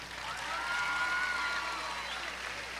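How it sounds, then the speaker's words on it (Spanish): Applause from an audience at a Venezuelan government event in Amazonas state, a steady wash of clapping held at an even level throughout, with no voice above it. "Eso merece un aplauso también"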